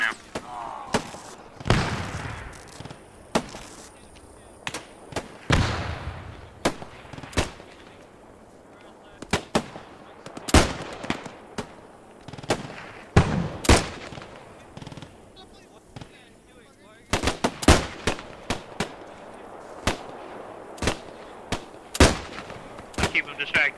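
Gunfire and a grenade explosion in the Post Scriptum video game, with many sharp shots and bursts scattered irregularly throughout, some close and loud, some heavier thuds, over a steady background.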